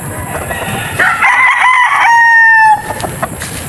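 A gray straight-comb gamefowl rooster crows once, loud and close, a drawn-out call with a falling tail, over a faint background hum.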